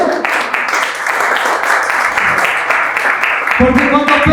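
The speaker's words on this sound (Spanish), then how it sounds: "denles un aplauso a las mujeres, por favor." Men in a church congregation applaud the women, steady, fairly loud clapping filling the room for several seconds, swelling slightly near the end.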